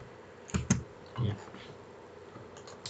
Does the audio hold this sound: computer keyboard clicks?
yes